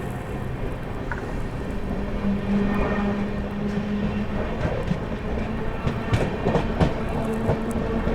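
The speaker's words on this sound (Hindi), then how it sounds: "चलिए निकल गई ट्रेन अपनी जो है अलीगढ़ जंक्शन से।" The Kaifiyat SF Express, train 12226, pulls out of Aligarh Junction in thick fog, a steady rumbling roll with rhythmic clickety-clack of wheels over rail joints, growing slightly busier and louder toward the end.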